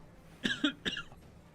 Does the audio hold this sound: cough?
yes